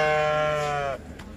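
Sheep bleat loudly and close at the Kırıkkale livestock market, one long wavering call of about a second that breaks off into quieter market background.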